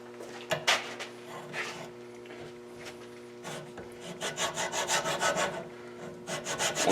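Rust is scrubbed off the brake pad contact areas of a 2011 Impala, with irregular scraping and rasping strokes that build into a fast, steady back-and-forth rhythm, close and fairly quiet.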